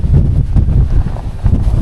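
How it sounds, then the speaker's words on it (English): Strong wind buffets the microphone high on the Lake District fells, a loud, continuous low roar with gusty surges throughout and no voices. "oh my god, it's windy up here."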